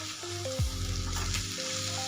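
Steamed bitter gourd tossed into hot masala sizzles and fries in a pan over medium heat, a steady close crackle with a brief clatter as it goes in.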